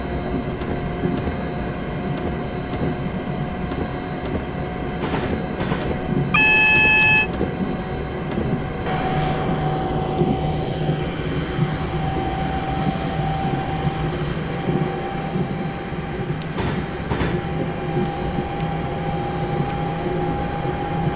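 London Midland train running in Train Simulator 2018 through the wintry Trent Valley: a steady, continuous engine and rail drone with a sustained tonal hum, joined by a brief beeping signal partway through.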